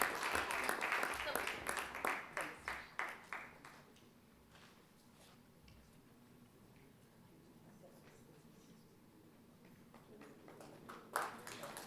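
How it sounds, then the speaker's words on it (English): A conference audience gives a short round of applause, a few loud bursts of clapping that fade within about four seconds, followed by quiet murmuring and one more brief burst near the end. "Everybody, lovely round of applause for them."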